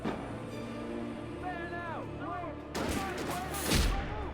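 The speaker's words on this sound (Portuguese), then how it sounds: "Levei um tiro de um polícia." A burst of gunfire from a police officer in Alan Wake Remastered cracks out near the end, with several rapid shots over a steady electronic music bed and voices talking.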